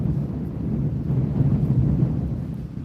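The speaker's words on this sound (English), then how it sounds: "There's some gusts right now." Steady low roaring wind buffets the microphone by the water, swelling slightly in strength through the middle, with no voices.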